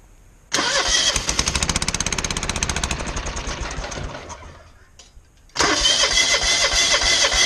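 A small lawnboard motor fires up after a quiet start, running with a rapid rough chatter that slowly fades and sputters out, then catches again loudly near the end.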